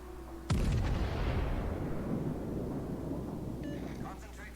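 A naval gun salvo from the battleship Queen Elizabeth in the World of Warships video game: one loud, sudden boom followed by a long, heavy rumbling decay that fills the rest of the moment.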